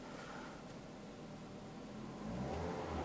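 A Ford C-Max engine idles low and then revs up, the hum rising in pitch and loudness toward the end; faint and steady, no talking.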